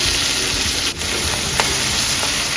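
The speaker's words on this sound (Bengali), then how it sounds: "এবার আমি পেঁয়াজ বসিয়ে দিচ্ছি" Onions fry in hot oil for a prawn biryani, giving a dense, steady close sizzle with a couple of brief stirring clicks.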